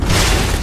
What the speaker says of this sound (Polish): Ja zrobiłem unik. i beczka wybuchła.